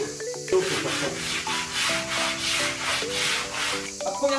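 Sandpaper rubs a wooden plank for a tack-room wardrobe in quick, rhythmic back-and-forth strokes, close and steady, with tonal music playing underneath throughout.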